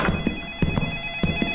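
A phone ringtone in a horror video game trills in quick repeated pulses, about three short rings across a moment, moderately quiet over a faint steady electronic hum.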